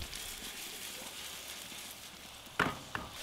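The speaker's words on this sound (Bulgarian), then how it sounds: "Слагам 4-5 супени лъжички олио и изсипвам първо лука, за да може да поумекне" Chopped onion fries in 4-5 tablespoons of oil in a pan, giving a soft, even sizzle throughout, with two brief sharper crackles or stirring knocks near the end.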